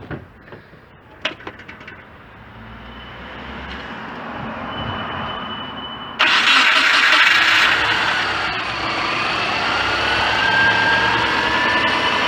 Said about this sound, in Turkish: Şimdi arabayı çalıştıralım.